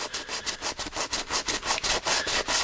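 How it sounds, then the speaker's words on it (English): Water buffalo horn rubbed at an angle on coarse 150-grit sandpaper, a steady run of rhythmic, close, rasping back-and-forth strokes, about a dozen in quick succession with no talking. "with a tough rough grit sandpaper, this is 150"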